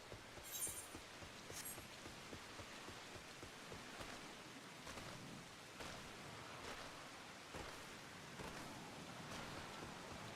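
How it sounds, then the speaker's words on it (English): Steady rain in a video game, a soft continuous hiss of falling drops with faint scattered ticks, quiet and even throughout with no voices. "Oh, the rain."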